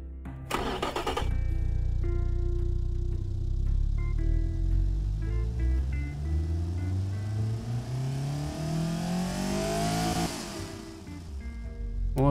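Engine test run in the car-building game Automation, for a car body built around a Polo engine: the engine starts with a sharp crank, then climbs steadily through the revs in a rising, loud, close whine before a quick drop and a short blip at the end.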